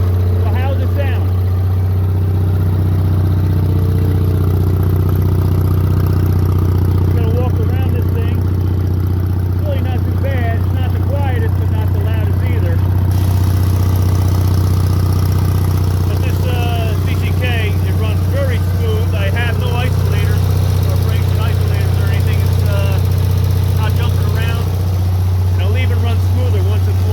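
A Devil's 5CCK engine fitted with a Micron motorcycle muffler idles steadily and loudly up close for the whole stretch, a deep constant rumble with light mechanical ticking, while someone talks over it.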